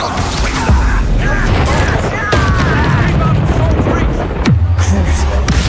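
A Confringo spell blast in Hogwarts Legacy bursts with a loud, booming impact, with further rumbling explosive hits amid dense game action and overlapping voices.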